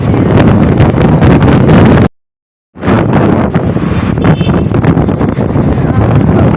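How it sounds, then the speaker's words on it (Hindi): Cold wind blowing outdoors and buffeting the microphone as a loud, continuous roar that cuts out briefly for about half a second before returning. "बहुत ठंडी ठंडी हवा चल रही है।"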